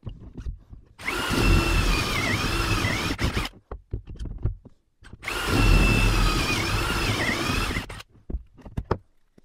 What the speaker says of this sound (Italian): praticare il foro con una distanza che sia meno vicina all'estremità